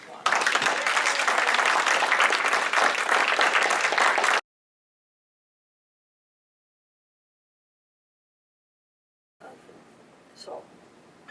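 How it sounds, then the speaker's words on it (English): Audience applause at a faculty union's 40th anniversary celebration, a dense burst of clapping for about four seconds that stops abruptly, followed by silence and then faint talk. "I think we all owe our newest president a big round of applause."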